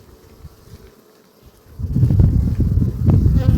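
Dense buzzing of many honeybees at a hive entrance swells after a quiet start, a steady loud hum of insects flying close by, coming and going.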